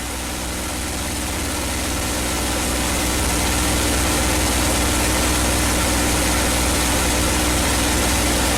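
P-51 Mustang piston aircraft engine at reduced throttle in flight, a loud steady drone with deep low rumble and broad roar, constant and close throughout with no talk.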